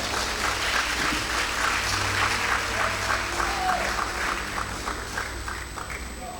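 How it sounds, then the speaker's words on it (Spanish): A church congregation applauds during a sermon, a dense, steady wash of many hands clapping throughout, moderately loud and slowly tapering, with a low murmur of voices beneath. "Dale un aplauso a Cristo Jesús."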